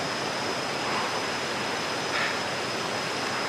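A small waterfall in the Transkei, South Africa, pours with a steady, dense hiss of falling water, close and continuous with no voices over it.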